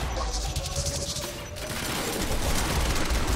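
Sustained gunfire from a weapon in the video game Quantum Break, a dense, loud stream of shots that runs continuously with no talk over it.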